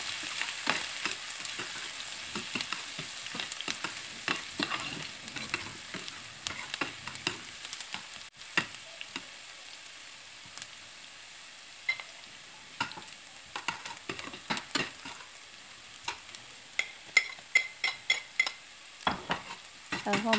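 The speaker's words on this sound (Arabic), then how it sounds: "أول شي بحط البصل قليه شوي مع الزيت" Onions fry in oil in a pan with a soft continuous sizzle, overlaid with frequent clinks and scrapes of a utensil stirring against the pan, growing busier toward the end.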